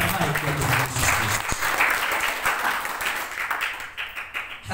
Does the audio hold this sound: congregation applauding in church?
yes